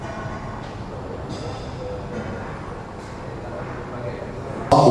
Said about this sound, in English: So the tube, see the train's about to leave, train's off